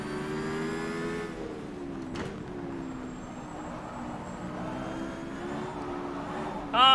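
A race car engine in rFactor 2 (Reiza bundle) rises and falls through gear changes, with a steady rev, a sharp downshift blip midway and a loud burst at the very end, heard up close without talk.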